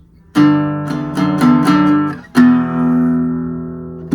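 A short acoustic guitar riff of power chords, several quick strummed hits followed by a longer ringing chord, played alone and close.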